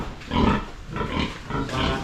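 Young piglets grunting and squealing on a farm, three loud, close bursts of squealing in quick succession.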